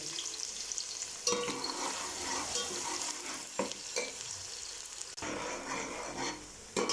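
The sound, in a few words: garlic frying in ghee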